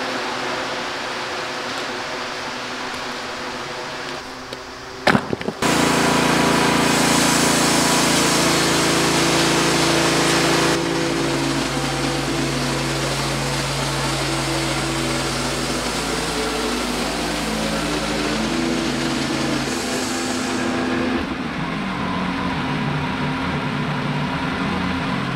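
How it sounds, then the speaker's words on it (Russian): A WoodMizer LX55 band sawmill cuts test boards: a loud, steady roar of engine and blade starts abruptly, holds for about fifteen seconds, then eases to a lower running drone with no talking. "Закінчили ми тестувати нашу пилочку, яку ми зробили."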